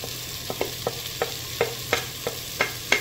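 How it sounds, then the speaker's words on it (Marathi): Spices and chole masala being stirred and mixed in a sizzling pan for white matar and aloo chole, a soft frying hiss under a run of regular spoon scrapes about every third of a second. "परतून मिक्स करपाचें।"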